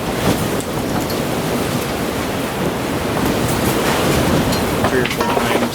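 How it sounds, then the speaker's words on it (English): Wind blowing steadily outdoors at an archery elk hunting camp, a continuous broad roar buffeting the microphone with gusty swells and no break. "It's a little bit windy, so I'm still back in the camp."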